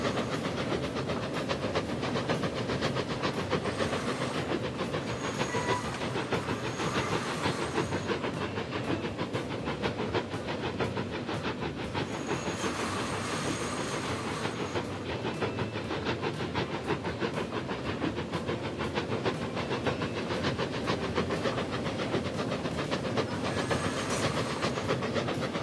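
Steam train running in Transport Fever, a continuous hissing, rumbling roll with faint rhythmic clatter of wheels, steady and fairly loud throughout with no voices.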